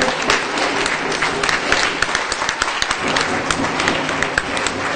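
Crowd applause fills a gym during a French NM2 basketball game between SMUC Marseille and CRO Lyon, steady dense clapping for the whole stretch with sharp individual claps popping out and faint murmurs beneath.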